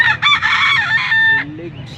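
A young lemon sweater gamefowl stag gives one loud, close crow lasting over a second, broken into a few rising and falling phrases. A short, lower call follows.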